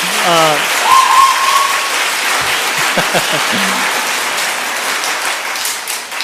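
An audience at a church testimony gathering applauds and cheers in a loud, sustained wash of clapping, with voices calling out over it.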